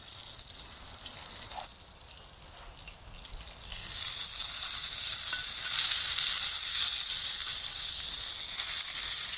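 Sausages frying over campfire coals outdoors, starting quiet and then breaking into a loud, steady sizzle and crackle that stays close and constant to the end.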